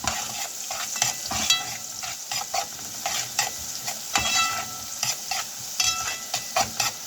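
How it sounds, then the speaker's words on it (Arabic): Onions fry in a pan while being stirred, giving a continuous crackling sizzle broken by repeated scraping strokes and clicks of a spoon against the pan. "هفضل اقلب فيهم لغايه ما البصله تدبل"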